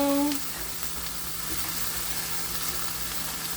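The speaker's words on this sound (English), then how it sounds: "I have the potatoes getting crispy over here" Potatoes crisp in a hot pan with a steady, even sizzle of frying oil that holds close and constant throughout, after a short tonal blip at the start.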